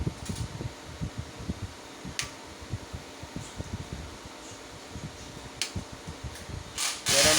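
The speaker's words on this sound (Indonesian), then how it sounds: "di sini kipas atau fan-nya sudah berfungsi dengan normal ya" The cooling fan of a pure sine wave inverter kit built on an EGS002 board with 16 TO247 MOSFETs runs under load with a steady whirring hum, broken by faint rustles, clicks and a louder burst near the end.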